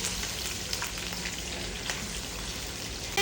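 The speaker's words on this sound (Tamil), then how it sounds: "இந்த எண்ணெயில் சொத்தவங்க மத லைட்டாக வதக்கிடுங்க." Squid sautés in hot oil in a home kitchen, a dense, steady sizzle and crackle holding even throughout, close and alone, with a faint clink of stirring near the end.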